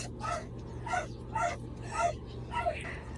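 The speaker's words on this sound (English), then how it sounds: "the dogs that are keeping barking every day and night" Several dogs bark in short, repeated yips and barks outdoors near Waimea Falls on Oahu, Hawaii, coming from a moderate distance over a steady low hum in the background.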